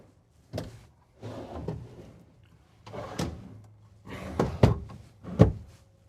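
Pantry drawers in a Winnebago 42QD Class A motorhome are pulled open and pushed shut several times, giving soft sliding rumbles and sharper thuds and clicks spread over a few seconds, close and without talk.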